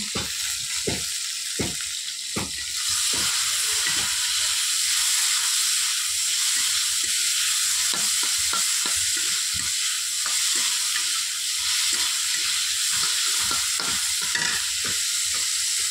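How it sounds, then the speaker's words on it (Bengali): Okra sizzles steadily in hot oil in a home kitchen, a continuous bright frying hiss broken by regular scraping clicks of a spatula stirring the pan, close and without speech. "ঢ্যাঁড়স ভাজছি"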